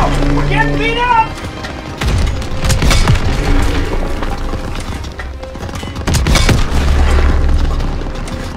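Tank explosion and gunfire in Call of Duty WWII, a World War II battle: heavy booms land around two and six seconds amid rattling shots and battlefield noise, with voices mixed in.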